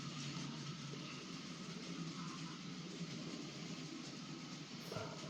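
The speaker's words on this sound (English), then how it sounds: "I'll just let this train of coal for Eccles Power Station at Wickford disappear" Model coal train bound for a power station rolling away on a railway layout, a quiet, steady rumble of running noise throughout with no talk.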